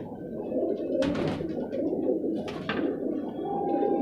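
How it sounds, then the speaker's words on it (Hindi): A Rampuri pigeon coos softly in low, throaty phrases over steady background murmur, with a couple of sharper bird calls breaking in. "बहुत बढ़िया कबूतर है"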